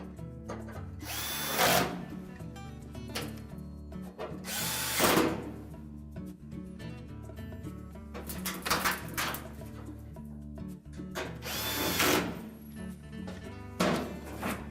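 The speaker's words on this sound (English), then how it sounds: "And again, reinstall the retaining screws." A power drill drives retaining screws into a Whirlpool range's blower assembly in several loud whirring bursts of a second or two each, separated by quieter handling noises nearby.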